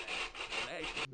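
A handsaw rasps through wood in the Hollywood Monsters adventure game, several quick back-and-forth strokes in a steady rhythm, close and fairly quiet, ending abruptly.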